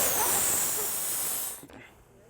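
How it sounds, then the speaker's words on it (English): Breath forcefully blown into a rubber balloon to inflate it before tying, a loud continuous airy hiss lasting about a second and a half that fades and stops abruptly, with no talking. "Start by blowing up the balloon."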